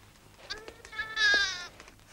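A lamb bleats in a few short, shaky calls that build into one louder, wavering cry, close by in a quiet setting.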